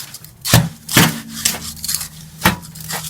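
Compost and sharp sand are stirred together by hand, giving gritty scraping and rubbing sounds with several sharper crunchy strokes, close and fairly loud.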